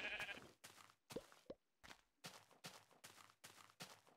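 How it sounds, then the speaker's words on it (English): Sheep in Minecraft beta 1.8 bleat in repeated short, regular calls at moderate loudness, alone with no talk and with brief soft game sounds in between. "Let's go kill this sheep"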